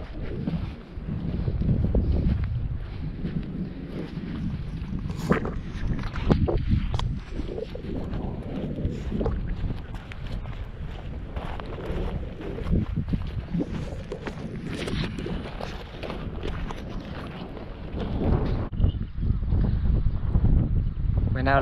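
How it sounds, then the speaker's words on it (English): Strong wind buffets the microphone on a sandy coastal beach, a constant loud roar with rushing gusts throughout. "Apologies for the wind, if you can hear a lot of wind."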